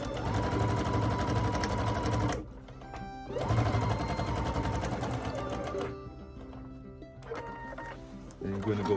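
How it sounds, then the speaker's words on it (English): A sewing machine stitches quilt block pieces in bursts, its rapid mechanical whir stopping and starting several times, close up, with a voice talking between runs. "just leave the sewing machine doing the work"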